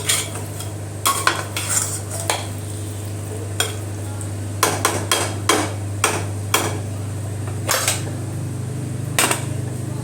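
A spoon scrapes and clinks against a pot while chicken is stirred in oil for a cooker biryani, giving irregular metallic knocks over a steady low hum and faint sizzle.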